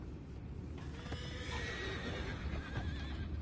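Horses neigh and whinny in Red Dead Redemption 2, with a drawn-out whinny rising over a steady outdoor game background and a faint clip-clop of hooves, heard alone without talk.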